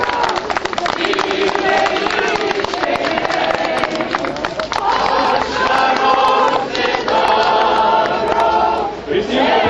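A large outdoor crowd at a 2012 summer congress of deportees and political prisoners in Ariogala applauds the Kaunas delegation at a stadium rally. The clapping and cheering stay loud and dense throughout, with crowd voices mixed in.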